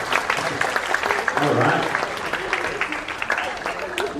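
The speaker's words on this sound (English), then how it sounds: "Let's give another round of applause" An audience at a high school humanities symposium applauds after a presentation, a continuous patter of clapping from a seated crowd with a voice speaking briefly over it.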